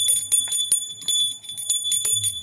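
A small hand bell rings steadily during evening prayer at home, a rapid series of bright metallic rings with a sustained high tone, close and clear.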